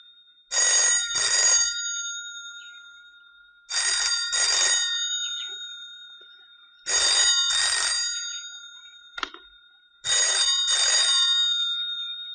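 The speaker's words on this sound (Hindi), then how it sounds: "तार जब कनेक्टेड रहता है तो घंटी बजती नहीं, और डिस्कनेक्ट कर दीजिए तो बजने लग जाती।" An old-style telephone bell rings in a film scene, four loud double bursts of ringing spaced about three seconds apart, each fading out before the next, with no voices.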